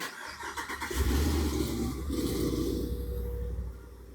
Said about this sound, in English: Sorry, I got a car here.